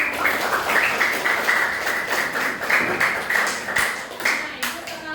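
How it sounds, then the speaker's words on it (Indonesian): A classroom of students clapping hands together for a classmate, dense, steady clapping lasting several seconds, fairly close and loud with some talk in the room. "Oke, tepuk tangan dong."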